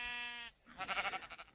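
Sheep bleating in the video game Minecraft, one steady nasal bleat followed by a second wavering, tremulous bleat, close and clear with no talk over it.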